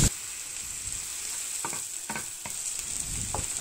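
Onion frying in olive oil in a pan sizzles with a steady hiss, broken by a few scraping stirs near the end.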